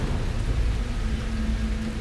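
Steady heavy rain pours with a deep low rumble of thunder beneath it, loud and continuous with no voices.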